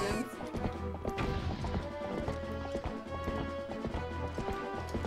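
Horse hooves clip-clop steadily in a video game, a fairly loud rhythmic trot running through the whole stretch, with game music and occasional crashing thuds layered around it.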